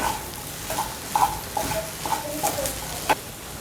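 A spoon stirs kanda paticha zunka, a spring-onion and besan dish, in a pan: soft scraping strokes at an irregular rhythm over a faint low sizzle, close and fairly quiet.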